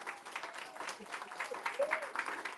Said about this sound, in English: Round of applause for Mr. Walter Mosley.